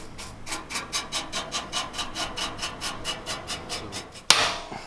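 Frothy grey liquid is rubbed onto a part of a 1969 Ford Capri under restoration, about sixteen even, rhythmic scrubbing strokes close by, ending with one sharp knock.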